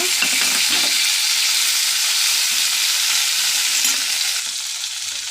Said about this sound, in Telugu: పచ్చిమిర్చి వేగిపోయినాయి అండి టమాటాలు వేస్తున్నాను